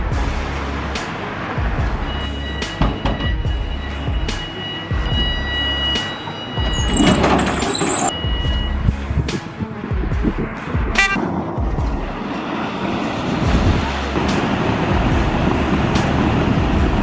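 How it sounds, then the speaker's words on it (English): Loud, continuous roaring rush of a Class 37 diesel locomotive plowing through snow, with a brief horn-like tone early on. "Ever seen a train throw snow like it's auditioning for a Marvel movie?"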